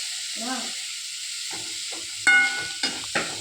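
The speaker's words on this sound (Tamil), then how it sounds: "தக்காளி போட்டு வச்சுப்பா. வாங்க நல்லா கிண்டி விட்டுக்கலாம்." Tomatoes sizzling and frying in a pan while being stirred, a soft steady hiss broken by short scraping bursts from the spoon or spatula against the pan, with a few sharper clinks near the end.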